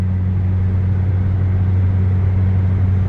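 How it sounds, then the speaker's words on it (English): A constant low roar of highway traffic beside a car show, an unbroken rumble of passing vehicles heard from nearby with no voices. "you're probably gonna hear a bunch of highway noise. So cars passing and whatnot"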